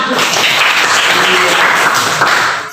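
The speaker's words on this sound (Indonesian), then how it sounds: "Tepuk tangan." Classroom applause in a social studies lesson, students clapping together in a loud, close, dense burst that fades out at the end.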